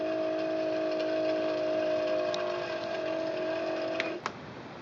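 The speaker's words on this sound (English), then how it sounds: "press the bobbin winding button and your bobbin will automatically wind." A Singer Quantum L-500 sewing machine winds its bobbin with a steady, even motor whine that runs for about four seconds, then stops with a soft click.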